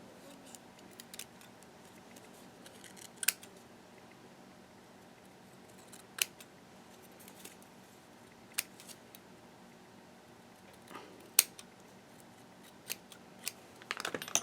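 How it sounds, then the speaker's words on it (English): Small, quiet snips of little scissors trimming paper cut on a Brother ScanNCut machine, sparse and irregular, against a soft room hush with no talking. "you can always take a little scissors and just clean it up"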